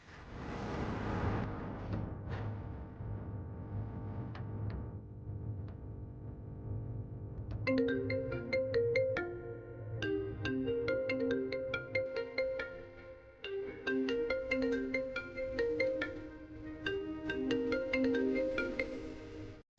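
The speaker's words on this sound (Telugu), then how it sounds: "చంద్ర, రూపకి ఫోన్ చేసి ఎక్కడుందో కనుక్కో" A mobile phone rings in a domestic scene of a Telugu TV drama. After a low, steady hum, a bright electronic ringtone melody plays in repeating tinkling phrases, moderately loud and with no voices over it.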